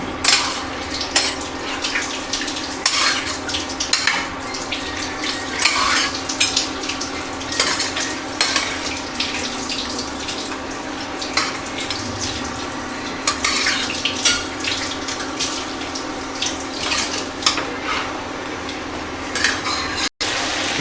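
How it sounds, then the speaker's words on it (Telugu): Mutton curry is stirred in a pan after water goes in, giving repeated clinks and scrapes of a spoon on metal over a wet bubbling hiss that continues for about twenty seconds. No one speaks. "ఇప్పుడు మనం తగిన వాటర్ వేసుకొని మిక్స్ చేసుకోవాలి."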